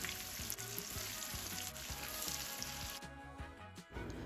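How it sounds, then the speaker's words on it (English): Pieces of goat meat searing in a pot on a stove at medium-high heat for Jamaican curried goat, a continuous close sizzle with faint scraping stirs, fading slightly near the end. "my stove is on medium-high heat, and I'm going to sear these pieces of meat off"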